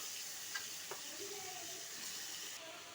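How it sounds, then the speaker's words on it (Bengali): Chicken pieces fry in oil with a constant, fairly quiet crackling sizzle, close and even, with a couple of faint clinks of stirring. "এবার চিকেনগুলোকে আমি একটু ভাজা করে নেব তেলে"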